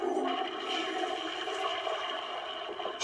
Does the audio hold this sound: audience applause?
no